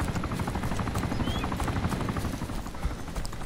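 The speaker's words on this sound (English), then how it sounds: "Looking up at that heli up there" A helicopter in the video game DayZ (Arma 2) flies overhead, its rotor chop a steady, continuous thump throughout with no talk.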